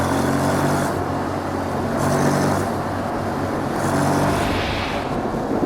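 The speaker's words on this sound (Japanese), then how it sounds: "こうしてエンジンを回している時のフィーリングはまさにスポーツツインといった感じがします。" Honda X-ADV sport twin motorcycle engine held near 6000 rpm in third gear at road speed, a steady loud droning roar with wind rush that rises and swells slightly over several seconds, no voices.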